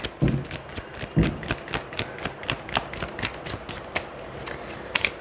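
Tarot cards being shuffled by hand during a reading, a quick series of crisp, rhythmic riffling snaps, close and clear with no talking over them.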